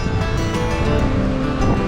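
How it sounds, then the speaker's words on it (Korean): East Sea surf breaks along a Sokcho beach in a loud, rumbling, continuous wash, with heavy low-end wind buffeting on the microphone. "파도 파도 보십시오 이게 동해바다입니다 오큰 거 온다"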